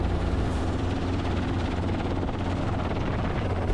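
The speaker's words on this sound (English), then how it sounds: "Ryan maneuvers the helicopter in circles over the area" Helicopter circling low over tall grass during a wild boar hunt, a loud, steady rotor roar with a low rhythmic thump that fills the whole stretch, close overhead with no voices.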